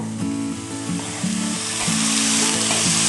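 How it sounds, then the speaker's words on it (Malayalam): Onions sautéing in a hot pan for gobi manchurian give a loud, steady sizzle with rhythmic scraping and stirring strokes throughout. "അതിന് നമുക്ക് ഒനിയൻ ഇട്ട് കൊടുക്കാവുന്നതാണ്. അപ്പം നമ്മളിതാ നല്ലവണ്ണം വഴറ്റണം ഇത്."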